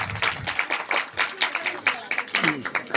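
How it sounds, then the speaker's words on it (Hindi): An audience claps for an award at a Ramlila prize ceremony, the applause coming in short uneven bursts over and between a voice speaking. "तो जोरदार तालियां यहां पर।"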